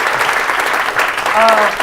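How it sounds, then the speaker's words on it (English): An audience at a talk event gives a brief, steady round of applause for the guests, a dense clatter of many hands with a voice briefly audible. "Please give a big round of applause again for our guests."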